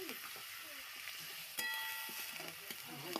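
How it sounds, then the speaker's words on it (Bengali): Cauliflower pieces frying in a pan give a steady close sizzle with faint crackles and a few soft stirring knocks, no voices. "প্রথমে আমি ফুলকপি ভেজেছি"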